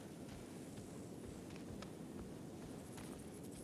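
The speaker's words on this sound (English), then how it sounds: "Footsteps." Footsteps in a video game, a steady run of soft, close steps over a constant noisy bed with no talk.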